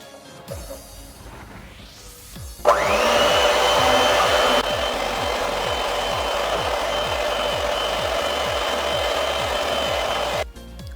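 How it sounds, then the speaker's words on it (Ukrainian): An electric mixer beating eggs with sugar and vanilla sugar, switching on with a jolt into a loud steady high whine that runs for several seconds before cutting off, alone without talk. "Окремо збиваємо яйця з цукром та ванільним цукром."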